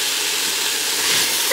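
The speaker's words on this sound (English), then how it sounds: "You can hear the onions sauteing away." Chopped onions and celery saute in a pan for turkey kale lentil soup, giving a steady, close, hissing sizzle with no pauses.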